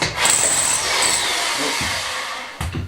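A loud, high-pitched whine of a hammer drill left in plain drill mode, running for a couple of seconds, close up, ending with a sharp knock as it cuts out.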